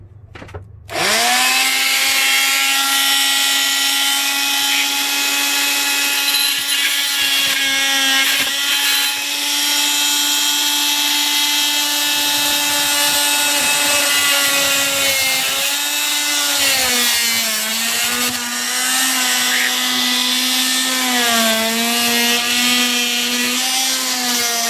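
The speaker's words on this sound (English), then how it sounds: "using the oscillating tool is the quickest I've found so far" An oscillating multi-tool cuts steadily through RV wall paneling and insulation in a loud, continuous buzzing drone, close up and running for about twenty-five seconds with slight pitch wavers, no talking.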